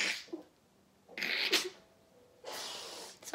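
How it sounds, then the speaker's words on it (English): A single close, loud sneeze in a quiet room while playing Bedwars, with a short breathy intake before it and a second burst of sneezing or laughter shortly after. "Sorry, I'm laughing to my own sneeze."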